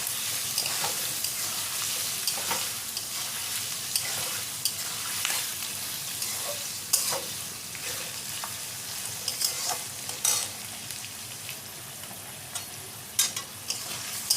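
Carrot, onion and chopped beans stir-fry in a pan for an egg chicken pasta, giving a steady close sizzle broken by repeated scraping clicks of a spatula, with no voices.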